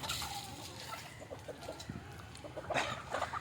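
Native village hens clucking in short, scattered bursts at moderate distance during evening feeding of cooked rice, with a soft outdoor background and no talking.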